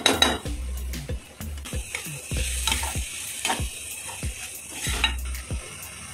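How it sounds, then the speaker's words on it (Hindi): A carrot and Schezwan sauce filling being stirred with a spoon in a pan over a low flame: repeated scraping knocks against the metal in an irregular rhythm, close and fairly loud, over a steady sizzle of frying. "इसको अच्छे से मिक्स कर लेते हैं।"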